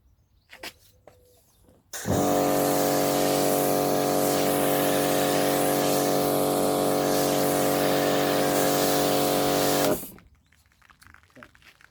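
An MJJC Foam Cannon Pro sprays with a loud, steady hiss that starts abruptly, holds for about eight seconds under a pump drone, then cuts off. Brief quieter handling sounds come before and after.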